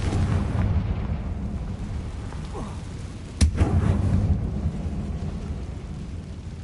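A Confringo fire spell blast in Hogwarts Legacy: one sharp, loud explosive crack midway, followed by a deep rumbling boom over a constant low roaring background, with no talk.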